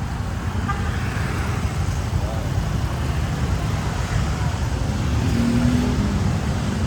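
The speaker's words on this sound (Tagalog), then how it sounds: "Ito yung traffic guys." Busy street traffic near a Notre Dame school in Barangay Busbus streams past in a steady, close rumble of engines, with faint horn toots now and then and voices talking over it.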